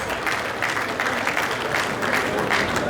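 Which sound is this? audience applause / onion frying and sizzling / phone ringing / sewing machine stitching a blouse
audience applause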